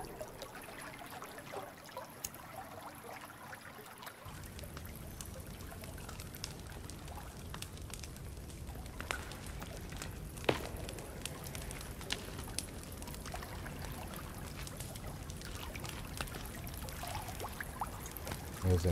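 Steady flowing water runs continuously in the survival video game The Forest, a broad, even wash of sound holding at a moderate level with no voices over it.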